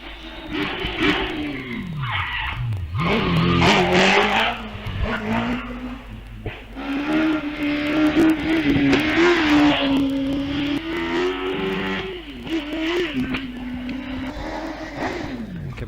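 A Caterham 7 2-litre car races up a hillclimb course, its engine revving hard and dropping through gear changes with repeated rising and falling pitch, heard from a moderate distance with some crowd or ambient background.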